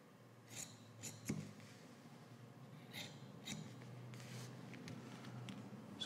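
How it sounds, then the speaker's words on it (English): Scissors snip through the corner of a sewn fabric piece from a Simplicity S9331 sewing pattern, giving several soft, close crunching cuts spaced over a few seconds against a low steady room hum. "let me trim some of this corner too"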